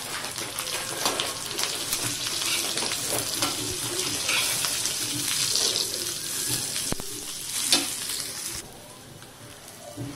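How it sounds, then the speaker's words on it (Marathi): Roasted chillies go into oil with cumin and garlic on a hot griddle for thecha. A loud, continuous close sizzle carries scattered crackles and pops, then eases near the end. "आणि या भाजून घेतलेल्या मिरच्या तव्यावर आपण तेलात टाकून घेऊया."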